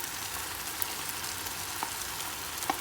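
Chicken sautéing in a pan for a pepper chicken gravy, giving a steady, close, even sizzle with a few faint pops and no talking.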